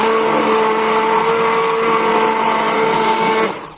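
Electric mixer beating cake batter made with yogurt and milk, a loud steady motor whine with an even hum that holds for over three seconds before cutting off, with no talking.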